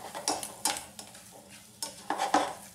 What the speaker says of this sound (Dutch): Het begint al sissende geluidjes te maken, het begint aan te bakken op de bodem.